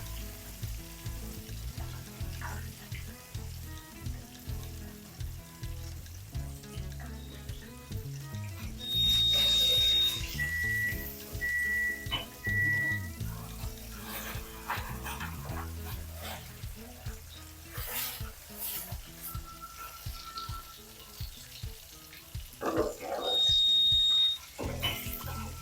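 Chicken pieces frying in hot oil, a continuous crackling sizzle close by, broken by a few short electronic beeps and some stirring clatter, with no one talking.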